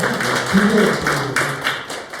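An audience claps for a learning facilitation lecture, a brief dense patter of hands under a continuous room hum, with voices murmuring through it.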